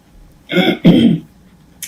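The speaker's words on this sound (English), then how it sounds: "Take a drink of water, see if I can clear my throat." A person clears their throat twice in quick succession, two close, rough bursts with a brief gap between them, followed by quiet.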